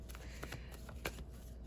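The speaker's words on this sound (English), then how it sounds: "Let's do that a little bit better, shuffle a little bit more." Quiet, quick riffling of tarot cards being shuffled, a few soft flicking bursts close by with no talking.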